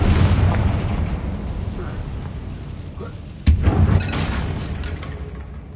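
A Confringo fire spell explodes in a Harry Potter video game: one sharp, booming blast about halfway through, rising out of a steady rumbling game ambience that carries on afterward.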